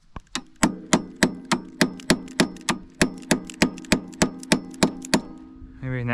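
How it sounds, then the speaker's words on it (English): Someone hammers while installing Fox Float 3 shocks on a Summit: about seventeen loud, evenly spaced metallic strikes with a ringing tone, close up, alone until a brief rising sound at the very end. "I was thinking if we could hammer."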